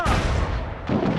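Ship cannon fire from a broadside battle in the pirate video game Assassin's Creed 4: Black Flag, a dense, loud rumbling boom that swells and renews near the end, with shouted voices underneath.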